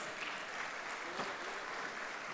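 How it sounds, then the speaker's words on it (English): Audience in an auditorium applauds the dignitaries at the Innovation Mahakumbha 2025 inauguration, a steady, even wash of clapping that holds at one level for the whole short stretch. "I request all in the auditorium to please greet the dignitaries with a big round of applause."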